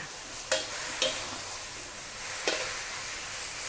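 Cabbage stir-fried in a wok with fish sauce and sugar gives a steady sizzle, broken by three or four sharp scraping strokes of the spatula spaced a second or two apart.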